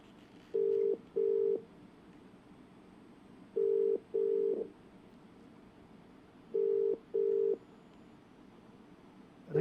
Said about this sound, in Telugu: ఎస్, రింగ్ అవుతుంది.